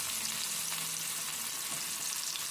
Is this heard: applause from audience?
no